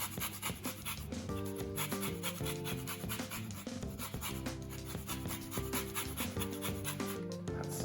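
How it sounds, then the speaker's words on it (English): Lemon zest is rasped off half a lemon on a grater for bread and butter pudding, a run of quiet, repeated scraping strokes over a steady tonal background. "And zest from about half a lemon."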